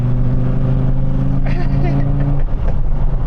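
A Dodge Viper engine drones at a steady pitch during a relaxed fourth-gear overtake from inside the car, then the note drops off near the end. Someone talks over the engine throughout.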